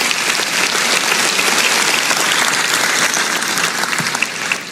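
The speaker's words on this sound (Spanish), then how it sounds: "dale un aplauso a la palabra del Señor" A church congregation applauds the word of God, a loud, dense, sustained wash of many hands clapping together for several seconds, filling the room with no speech over it.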